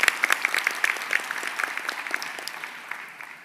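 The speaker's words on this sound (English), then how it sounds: "So I think we should also give them a big round of applause to recognize them." A graduation audience claps steadily at close range, a dense patter of many hands that swells at the start and slowly thins out over a few seconds.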